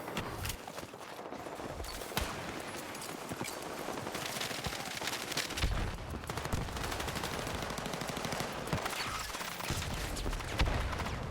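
Gunfire in Battlefield 6 infantry combat, with dense, sustained automatic fire and close hip-fire bursts, scattered impacts and footsteps, moderately loud throughout.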